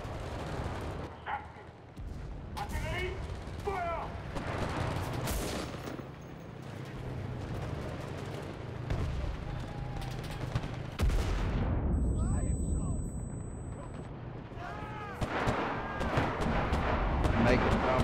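Artillery and small-arms fire in the World War II shooter Enlisted's Normandy campaign: repeated booms and rattling gunshots, some near and sharp, others distant, mixed with shouted voices and a continuous battlefield din that grows louder toward the end.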